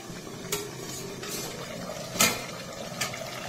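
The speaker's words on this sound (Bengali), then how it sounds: "ঢাকনা তুলে নিচ্ছি।" A metal lid is lifted off a pot of goat meat simmering in a village kitchen, giving a few light clinks and scrapes over a low bubbling background, with one brighter metallic clatter partway through.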